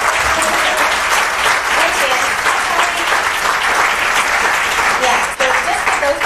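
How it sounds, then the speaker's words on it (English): Sustained, loud applause from a roomful of people honouring students, an even wash of clapping that continues for several seconds with faint voices mixed in. "just give them a round of applause"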